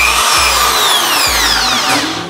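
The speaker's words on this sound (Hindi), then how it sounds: "अब हम देखते हैं अपने इस आईबेल के ड्रिल मशीन का क्या पावर" An iBell TD13-100 electric drill machine runs loud and close, its motor whine steady with slight pitch wavering as it spins continuously with no talk.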